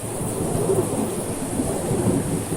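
Thunder rumbles low and continuous through steady heavy rain in a storm, a dense wash of rainfall with rolling booms underneath, no voices.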